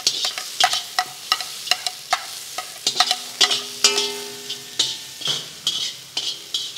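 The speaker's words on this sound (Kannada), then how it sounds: "ಇವಾಗ ಈರುಳ್ಳಿ ಹಾಕೋಣ. ಈ ಟೈಮ್ ಈರುಳ್ಳಿ ಸಣ್ಣದಾಗಿ ಹೆಚ್ಚಿಕೊಂಡಿರೋಂಥ ಈರುಳ್ಳಿ." Finely chopped onion fries in a pan while a utensil stirs it, giving steady rhythmic scrapes and metallic clinks against the pan, some ringing briefly, over a soft continuous sizzle, close and fairly loud with no talking.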